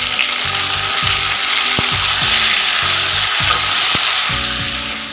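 Chopped tomato and green chili fry loudly in a hot pan for a vegetarian vegetable curry. Continuous close sizzling runs throughout, with rhythmic scraping from stirring and a couple of sharp clicks.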